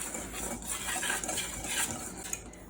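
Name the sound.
whisking dry cornbread ingredients in a bowl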